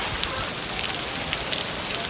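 Rain patters hard onto tractors outdoors, a constant rough hiss of drops with faint splashes and crackles, close to the ground and steady throughout.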